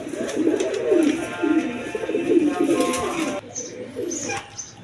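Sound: pigeons cooing

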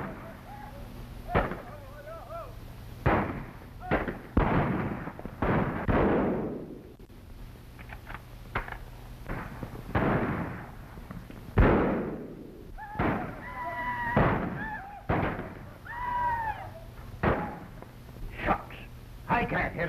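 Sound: gunshots from an old western film

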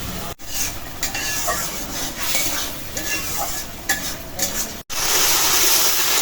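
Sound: spice paste being stirred and fried in oil

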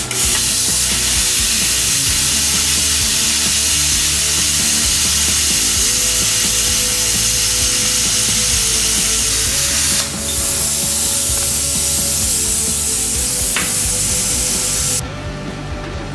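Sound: cheap Amazon plasma cutter cutting sheet metal

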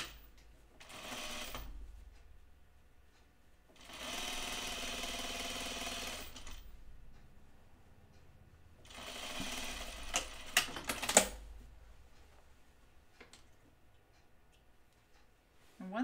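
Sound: sewing machine sewing Bleuet dress seam

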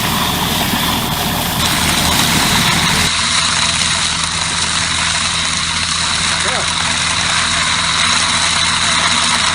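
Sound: Hasatsan harvester machine engine running

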